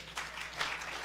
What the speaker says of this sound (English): That's almost worth the applause, isn't it?